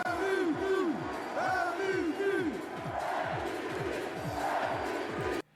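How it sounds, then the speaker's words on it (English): A large Serbian crowd chants MVP for basketball player Jokic in loud, rhythmic, repeated bursts of many voices, sustained for several seconds with a steady roar underneath. "the entire Serbian crowd were cheering MVP for Jokic"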